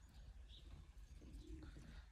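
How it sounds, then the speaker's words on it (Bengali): Pigeons coo softly indoors inside a house in Europe, a low, faint cooing murmur with a brief higher chirp, no talking. "কবুতর আছে বাসার ভিতরে"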